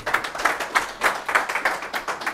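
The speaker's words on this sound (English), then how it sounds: "So if you'll please join me in a round of applause to welcome Chris Sergent" An audience claps to welcome a speaker at a user-group tech presentation, a sparse, uneven run of hand claps with separate peaks, close and moderately loud.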